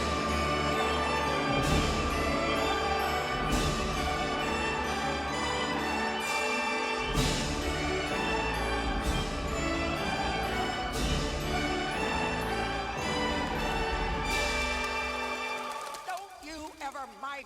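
The main theme of Disney's The Hunchback of Notre Dame returns in a major key at the film's ending, a full, sustained orchestral passage with swelling accents that holds for most of the stretch before breaking up near the close.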